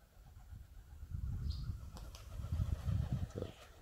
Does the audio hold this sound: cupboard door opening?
no